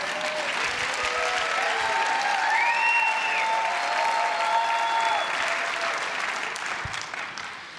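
Audience applause at a Christians United for Israel event, dense and loud from the start, with a few sustained tonal sounds rising above it, tapering slightly near the end.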